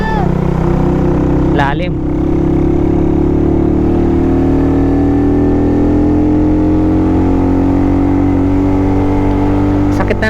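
A vehicle with a stock exhaust pipe drives over the rough, uneven Atimonan zigzag road in Bagbilao. Its steady engine drone runs close and loud, and a person speaks briefly over it.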